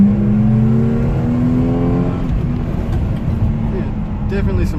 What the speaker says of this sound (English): We'll try revving first out a bit.